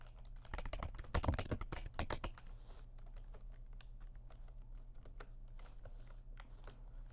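Typing on a computer keyboard, a fast burst of close, loud keystrokes at first, then lighter scattered taps continuing alone over a steady low hum.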